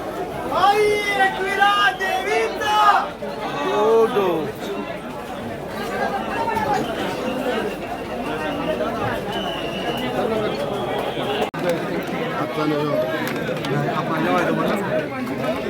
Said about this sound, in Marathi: फुल जल्लोष आईच्या पालखीचा. खूप पब्लिक आलेली आहे.